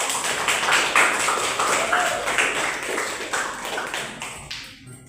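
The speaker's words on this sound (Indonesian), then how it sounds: "tepuk tangan ya untuk hasil diskusi pada perkuliahan kita hari ini ya" Students in a university classroom clap together in a quick, close patter of many hands that gradually fades and stops near the end, with light talk mixed in.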